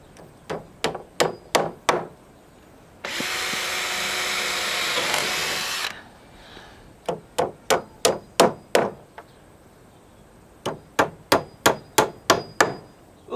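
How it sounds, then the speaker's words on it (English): A hammer drives a nail by hand through a metal strap into a wooden purlin, heard as crisp, evenly spaced blows in quick bursts. A short burst of steady power-tool whirring, like drilling, falls between them. "then I'm just going to nail it on by hand."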